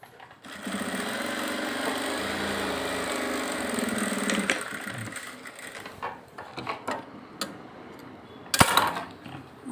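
A sewing machine stitches a blouse with a steady mechanical whir for about four seconds, then stops, leaving scattered clicks and handling taps from the machine parts and fabric. No one speaks.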